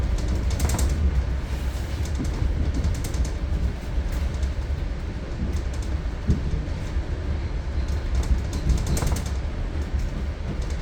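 An exo commuter train on the Mascouche Line, on a winter run near a rail yard, gives a steady, dense rumble of wheels on rails. Faint rhythmic clicks come through the broad roar, which stays even from start to finish.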